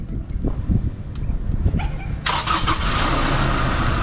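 A 2017 Chevrolet Trailblazer LTZ engine starts by remote start, catching about halfway through and settling into a steady, loud idle close by, with a dog barking and voices heard before it fires.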